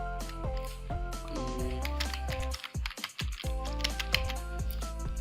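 Fingers type a username on a computer keyboard, giving a quick series of close, light key clicks in an irregular rhythm.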